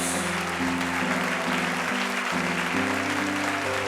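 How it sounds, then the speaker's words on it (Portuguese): A church congregation claps loudly and steadily in worship, with organ or keyboard chords sustained underneath the applause. "Dê uma salva de palmas bem forte para o nosso Deus."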